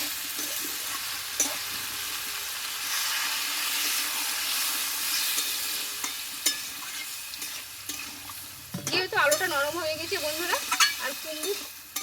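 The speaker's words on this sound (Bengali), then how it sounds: "এবার আমি এখানে জলটা আমি দিয়ে দেবো" Potato and pumpkin curry frying in a pan, with a steady hiss for several seconds before water is poured in near the end, producing a louder bubbling, sputtering burst.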